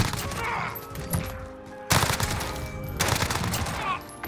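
Bursts of rapid MP5 submachine gun fire in Modern Warfare, loud and close, with a brief pause between volleys and faint background game sounds.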